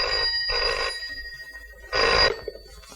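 An old-style telephone bell rings in loud bursts, two rings close together, a pause, then a third, with a near and clear tone in an otherwise quiet room.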